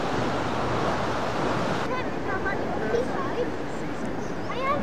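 Sea waves wash steadily along the South Devon coast, a continuous broad surf roar with wind buffeting the microphone throughout.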